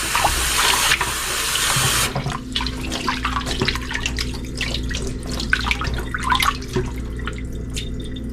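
Tap water gushes loudly into a kitchen sink at first, then runs more softly with splashing, dripping and handling sounds as raw chicken is washed under it.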